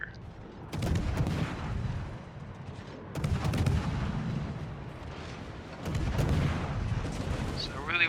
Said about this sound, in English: I'm going to have a gun duel here.